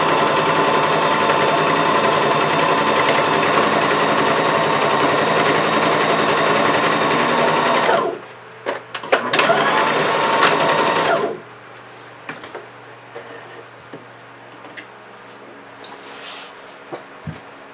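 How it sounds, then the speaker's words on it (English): Sewing machine back stitching the seam of a paperbag waist skirt runs in a rapid continuous whir for about eight seconds, then short bursts, then stops, leaving quiet handling noises. "Always make sure you back stitch to secure the stitch."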